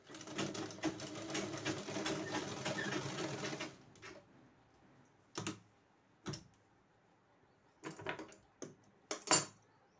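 A sewing machine stitches a blouse for about four seconds, close and steady, then falls quiet, broken only by a few short clicks and taps.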